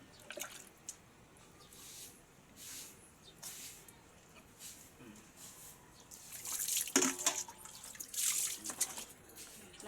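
Running water rinses a person at bath time, with soft trickling and dripping that splashes louder toward the end and a few faint voices in the background.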